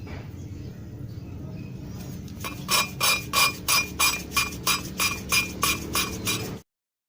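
Engine valve being lapped against its seat, a quiet rubbing start followed by about a dozen rhythmic gritty scraping strokes in quick succession, close and fairly faint, then abrupt silence.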